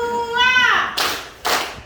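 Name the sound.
children clapping twice in a classroom clapping game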